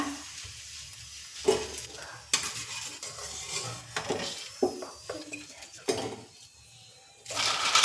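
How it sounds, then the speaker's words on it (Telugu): Pani puri dough rounds frying in hot oil, bursts of bubbling sizzle rising and falling with clatter of a metal spoon or slotted ladle against the pan, up close. "ఈ విధంగా మనం అన్నీ ఇలాగనే ఫ్రై చేసేసుకుంటే సరిపోతుంది"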